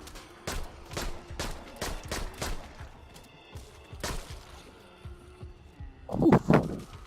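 Gunfire in the VR zombie shooter Arizona Sunshine, horde mode: a quick run of about eight sharp shots, a brief pause, another shot, then a player's voice near the end.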